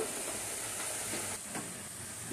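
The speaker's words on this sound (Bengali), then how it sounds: "এবার আমি ঢাকনাটা নামিয়ে নেব।" Steam hissing steadily from a pan of radish and prawn stir-fry as its lid is lifted, a constant broad hiss with a slight dip midway.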